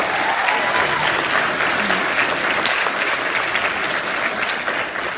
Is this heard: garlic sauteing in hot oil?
no